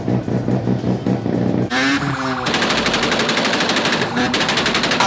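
A Mazda RX-7 rotary engine revs with a sharp, buzzing rattle: a rapid burble, then quick rising throttle blips and a sustained high rev, loud and close.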